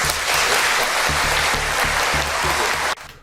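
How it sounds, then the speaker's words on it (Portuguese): An audience at an official ceremony applauds, a steady wash of clapping with rhythmic thumps from nearby hands that cuts off abruptly near the end. "a gente vê as pessoas em volta desempenhando o ato de aplaudir"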